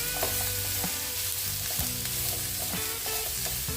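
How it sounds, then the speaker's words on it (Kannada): Masala sizzling and frying on a medium flame for a Tulunad chicken curry, a steady dense crackle with the periodic scrape of stirring, close and continuous with no talk. "ನಾನು ಮೀಡಿಯಂ ಫ್ಲೇಮಲ್ಲಿ ಇಟ್ಟು ಫ್ರೈ ಮಾಡ್ತಾ ಇದ್ದೇನೆ."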